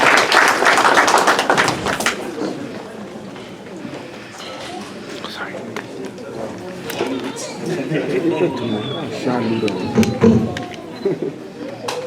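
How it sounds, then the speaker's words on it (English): Round of applause from a crowd at a community welcome event in Toronto, a broad clapping texture that is loud at first and then sustained more softly with crowd murmur over twelve seconds. "So round of applause."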